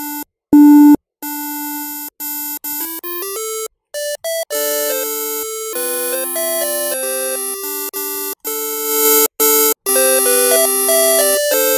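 BitInvader synthesizer in LMMS with its high-pass filter lowered, playing a bright, buzzy electronic melody of sustained stepped tones separated by short gaps, loud and alone with no voices.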